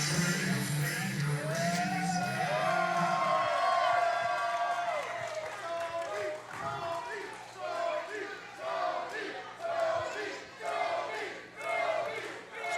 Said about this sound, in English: Crowd showing their appreciation for Tony Gunn, OVW legend.